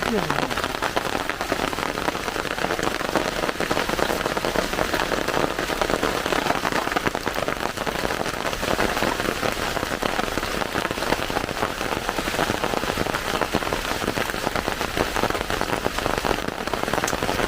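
Heavy rain pours steadily on a surface, a dense, loud hiss of drops that never lets up across the whole stretch.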